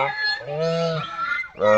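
Loud, nasal goose honks close by, one long drawn-out call followed by another starting abruptly, with goslings nearby.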